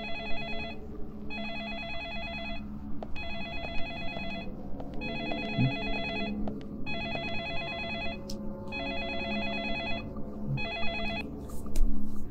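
A telephone rings in the horror game Deadly Premonition, its trilling bell repeating in regular bursts with short pauses for several cycles, clear above a low ambient game rumble.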